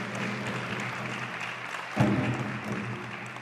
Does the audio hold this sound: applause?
yes